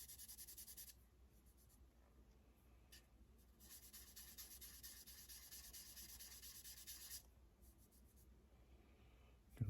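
Steady wet sanding of model car paint with a sanding sponge, a soft continuous rubbing hiss with short pauses in the strokes, close and fairly quiet, with no voices.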